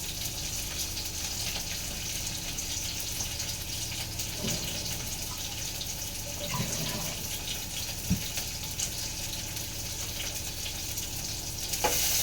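Onion frying in a pan gives a steady, even sizzle throughout, with a few soft knocks and clinks of utensils surfacing now and then.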